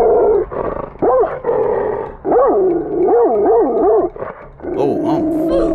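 A pitbull-type dog gives a series of loud, close, drawn-out howling and yowling barks, rising and falling in pitch in several separate bursts with brief pauses between them.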